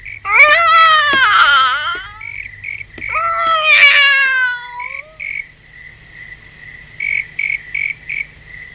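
A cat meows twice, long drawn-out wavering cries, against a steady chirping of crickets that continues after the meows stop.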